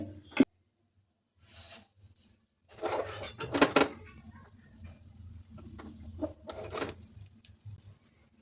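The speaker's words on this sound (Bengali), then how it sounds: "কড়াইটা মাঝে মাঝে এভাবে ঘুরিয়ে নিতে হবে।" A wok is swirled while lentil fritters shallow-fry in a little oil, giving scattered metallic clanks and scrapes with quiet stretches between, close and moderately loud.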